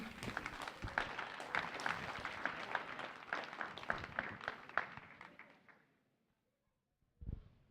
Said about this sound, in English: Let's give him a big round of applause also for him.